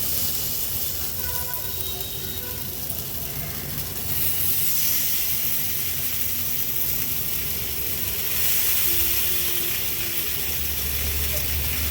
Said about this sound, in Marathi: आता एक एक करून आपण ही आपली तिकाची स्टिक ठेवणार आहोत